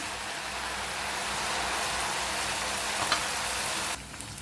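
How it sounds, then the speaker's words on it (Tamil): Vermicelli frying in hot oil over a low-to-medium flame gives a steady, dense sizzle that holds evenly for several seconds, close and fairly loud, then drops slightly near the end, with no talking. "இப்போ நம்ம ரெடி பண்ணி வச்சுருந்த சேமியா எல்லாத்தையும் இதில் ஆட் பண்ணிக்கிறேன்"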